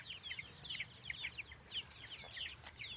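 Month-old chicks in a cage chirp and cluck continuously, producing a busy run of high, overlapping peeps at close range with no talking.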